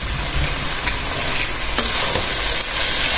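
Sliced chicken stir-fries in a pan for lomi, a dense, loud sizzle with scraping stirs and faint clinks of the utensil against the pan. It runs continuously, close up, with no voice.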